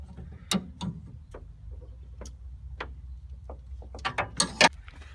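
Metallic clicks and ratcheting ticks come from a CNG high-pressure filter housing as it is screwed and tightened back on. The clicks are scattered and close, with a quick cluster of sharper clicks near the end, and no talk.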